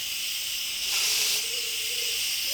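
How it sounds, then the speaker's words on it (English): An Instant Pot releases pressure through its vent, giving a steady, close hiss of escaping steam that swells briefly in the middle and then settles back to a constant rush. A faint tone rises underneath. "So it's just releasing the rest of the steam out of that."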